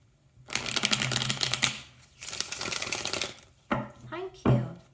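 Tarot cards being shuffled by hand during a Capricorn reading; two long crisp riffling bursts followed by shorter card flicks and taps, close and fairly quiet.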